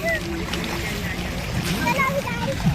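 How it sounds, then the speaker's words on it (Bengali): Water slaps and splashes at the edge of the Maithon Dam reservoir in a steady, close churn, while people's voices talk over it and a child calls out nearby. "ভালো ঢেউ আসছে দেখুন"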